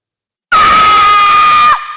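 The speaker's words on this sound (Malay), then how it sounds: "Dia pekik kuat." A woman screams loudly, a single sustained high-pitched shriek held steady for over a second, very close and intense, breaking off abruptly into a fading tail.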